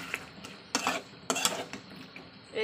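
Spatula scraping and clinking in a pan as spice masala is stirred and sautéed with tilapia and potatoes, a few distinct metallic strokes at irregular intervals over a soft background, no talk.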